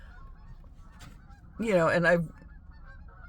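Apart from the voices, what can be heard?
geese honking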